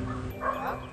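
A golden poodle barks once in a short yip-like burst, heard at moderate distance against a steady background hum, with no talking.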